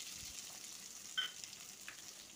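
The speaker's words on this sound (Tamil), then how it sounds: "வெங்காயம் வதங்கட்டும்" Chopped small onions sautéing in oil with cloves, cinnamon, cardamom and bay leaf, a faint steady sizzle with a couple of brief clinks, no voices.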